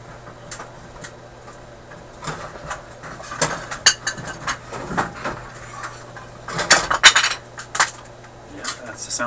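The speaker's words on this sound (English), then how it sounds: "that's the sound of me digging out my air pump" Someone rummages through items to dig out an air pump: irregular clinks, clatters and knocks of objects being moved, close by and busier toward the second half.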